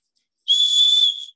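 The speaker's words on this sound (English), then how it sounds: "There's a whistle." A personal safety whistle gives one sharp, loud, steady shrill blast lasting under a second, alone in silence.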